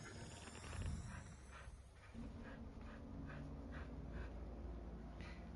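A dog named Phoenix whimpering: faint, soft repeated whines and snuffles at low level under a steady background hum from a video game.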